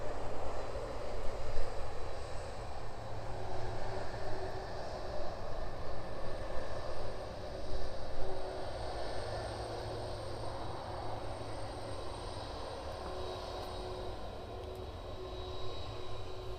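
An airliner arriving at East Midlands Airport on a flight from New York JFK in the evening makes a continuous, broad jet roar that swells and eases slightly, heard from a distance.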